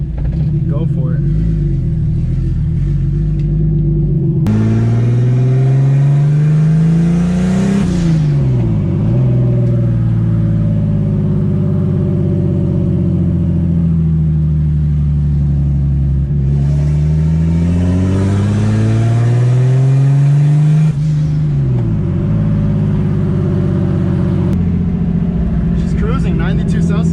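Turbocharged BMW M52 engine in an E30 car driving, loud and close, rising and falling through several long pulls and gear shifts with a steady rumble throughout.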